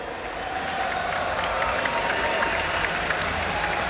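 Crowd at a European regional esports tournament cheers and applauds for FNATIC Raid Call, a loud, dense, steady roar of clapping and shouting that fills the whole stretch without letup.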